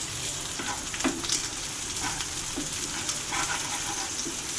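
Onions browning in a pan for a crab gravy give off a continuous moderate sizzle, with light spoon scrapes and small pops scattered through.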